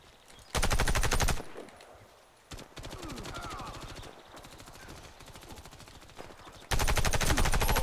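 Gunfire in the video game Warface: loud bursts of rapid automatic fire at the start and end, with quieter steady rattling shots in between.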